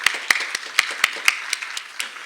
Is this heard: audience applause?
yes